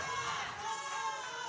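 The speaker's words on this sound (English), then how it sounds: "The crowd is getting fired up for Abby." A crowd at a Canadian national powerlifting competition cheers and shouts in a brief, faint burst of mixed voices heard from a distance in the hall.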